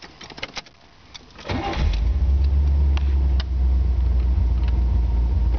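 A 1977 Chevrolet Corvette cranks over and fires, settling into a loud, steady low idle rumble that carries on close by, with no talking.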